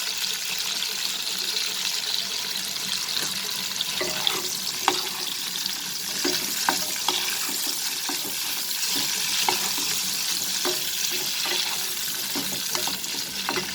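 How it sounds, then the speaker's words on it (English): Carrots and mixed vegetables frying together in oil over a high flame, a dense continuous sizzle with frequent stirring clicks and scrapes of the spatula throughout. "but I'm going to fry everything together in this oil."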